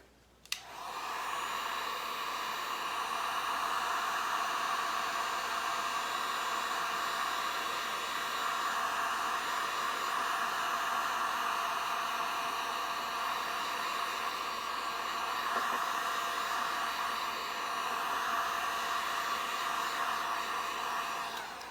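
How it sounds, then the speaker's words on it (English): A heat gun blows steadily over resin on a gold leaf resin tree piece, a continuous close, loud airy whoosh with a faint hum that switches on at the start and runs unbroken to the end. "I'm just gonna blast it once more with the heat gun"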